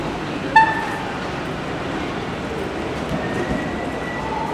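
Irish Rail train 8616 pulls out of Dun Laoghaire station, a steady low rumble of wheels and engine holding evenly at moderate distance, with a brief squeal near the start and no talking.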